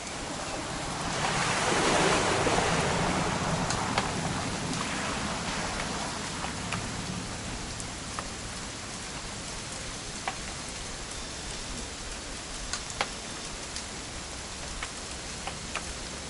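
Rain in the video game What Remains of Edith Finch, a broad wash of falling water that swells early then settles into a quieter steady hiss, scattered crisp drops and ticks standing out, no voices.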